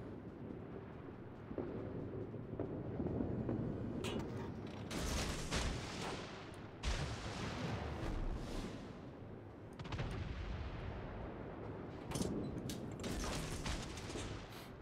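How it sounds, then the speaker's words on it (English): A warship's naval turret fires a salvo in the World of Warships video game, several heavy booming blasts spread across the clip with rumbling tails over a continuous low battle din. "One of my turrets fired a single turret."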